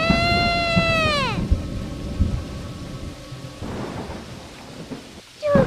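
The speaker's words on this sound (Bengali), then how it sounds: "তখনই বজ্রপাত এসে টুকির উপর পড়ে।" A heavy thunderclap rolls through steady rain. A wailing, meow-like cry fades out first, and a second sharp crack comes near the end.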